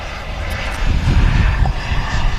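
Aircraft taxiing out at Manchester Airport produce a loud, steady engine roar with deep rumble swelling slightly midway, heard outdoors from fairly close without talk.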